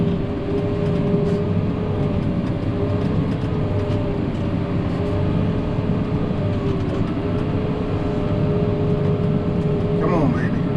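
A heavily weighted tractor with front weights, front duals and wheel weights in the rear wheels drones steadily under load while pulling a ripper through a field, a loud, constant low engine hum with no letup.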